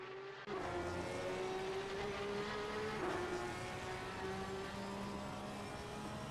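Race cars in Assetto Corsa Competizione during a Kyalami 9 Hours multiclass race, a continuous engine roar with a steady pitch and a brief rise and dip midway, loud and unbroken after a sudden start.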